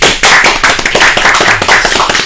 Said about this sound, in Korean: 우리 이것도 박수 한번 해드려야 되겠어요.